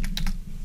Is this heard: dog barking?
no